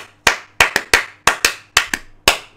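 A single person claps their hands close by, eight sharp claps in an uneven rhythm, each with a brief room decay, over a faint low hum.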